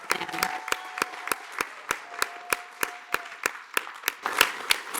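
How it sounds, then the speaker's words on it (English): Audience at a Duncanville school board meeting claps for honorees, a dense burst of individual hand claps with several sharp, close claps standing out in a steady rhythm, sustained for the full stretch without talk. "clap for them."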